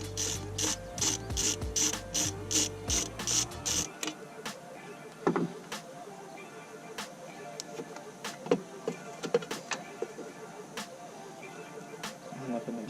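Ratchet wrench with an 8mm socket loosening a cold air intake clamp on a car, a burst of quick rhythmic clicks followed by scattered single clicks and handling noises.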